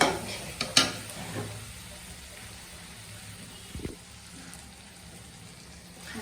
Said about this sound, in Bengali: এখন আমি এই পর্যায়ে পানি দিয়ে দিব